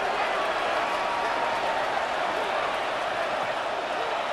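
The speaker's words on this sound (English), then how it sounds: "How about some applause for the defense there?" A video game crowd in Madden 26 cheers the defense during a Patriots vs Broncos AFC Championship game, a steady broad roar of applause and cheering that holds loud and unbroken throughout.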